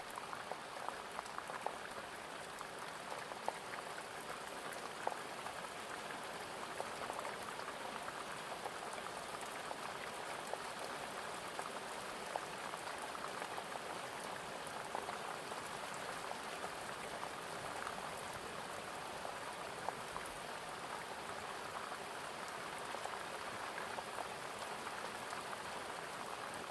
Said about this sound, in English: so you can hear the rain getting heavier on the outside of the tent.